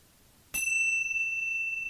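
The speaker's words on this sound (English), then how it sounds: "let me chime my bells before we get into it." A small bell chimes once before a yoga practice, a clear, bright strike whose pure ringing tone sustains and slowly decays in a quiet room.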